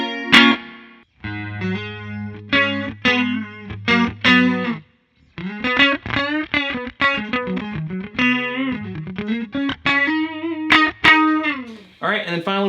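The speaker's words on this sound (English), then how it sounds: "This is a multi-effects reverb pedal," Electric guitar played through a digital multi-effects reverb pedal on a pedalboard, ringing chords and picked notes with a lush reverb tail, loud and close with brief pauses between phrases.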